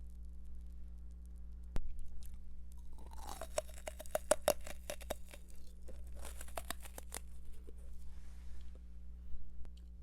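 Jelly candy from a CU convenience store is chewed close to the microphone, with soft crunchy, tearing bites clustered in the middle over a steady low electrical hum.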